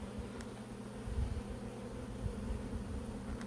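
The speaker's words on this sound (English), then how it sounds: "And lots of bees." Honey bees buzz around an open hive frame, a dense, continuous drone of many wings layered close by, steady in level with brief swells as individual bees pass near.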